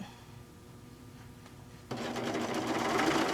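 A sewing machine stitches the seams of a fat-quarter tote bag, starting as a quieter hum and jumping to a louder, steady whirring run partway through, with no talking.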